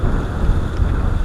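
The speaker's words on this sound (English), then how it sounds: "You can tell the trees are just blowing in the wind." Strong wind gusts through trees on a windy day in Michigan, a steady loud roar and buffeting rumble close to the microphone with no break.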